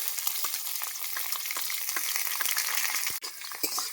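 Chopped onions and garlic fry in hot oil with dried chillies, bay leaf and cumin, giving a close, continuous sizzle with crackling pops and occasional stirring scrapes, no voices.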